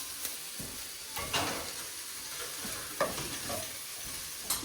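Orange and green peppers frying in a pan hiss under repeated stirring. Several scraping strokes stand out from the steady, moderately quiet sizzle, and no one talks.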